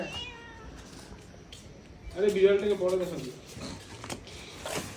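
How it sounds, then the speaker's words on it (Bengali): A cat lets out a single drawn-out meow near the middle, close and fairly clear, over quiet outdoor background noise and a soft voice. "বিড়াল"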